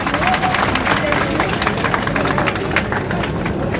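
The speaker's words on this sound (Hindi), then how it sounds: "पहले तो एक बार जोरदार तालियां हो जाए हमारी माता बहनों के लिए" A large crowd claps at an outdoor political rally in Jaipur, with loud, continuous, dense applause mixed with crowd noise and a low rumble throughout.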